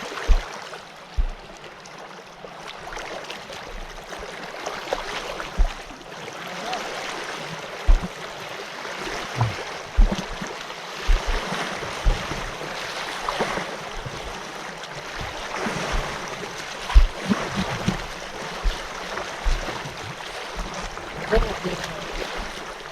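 People wade through chest-deep water while crossing a river on a fishing outing. Splashing and sloshing water continues steadily alongside a broad rushing flow, with repeated sharp splashes and faint wind buffeting.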